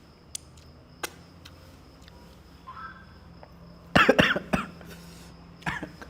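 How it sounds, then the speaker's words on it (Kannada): A person coughs after eating spicy Savji food at a hotel: a couple of faint isolated coughs followed by a louder burst of rapid, harsh coughs, then one more short cough, in a quiet room. "ಕೆಮ್ಮು."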